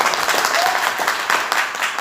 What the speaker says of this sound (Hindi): ताली जोरदार वाली बजाइए।